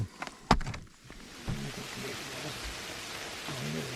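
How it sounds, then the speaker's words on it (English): Rain mixed with snow falls steadily on a hot tent at 9,300 feet in the Colorado mountains, a continuous soft patter with a few sharper close drips and knocks early on. "It's like rain with snow"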